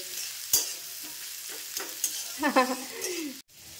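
Noodles with chillies being stir-fried in a pan, with a soft continuous sizzle broken by a few sharp scraping stirs and clatters of the utensil close by, ending in a brief cutoff.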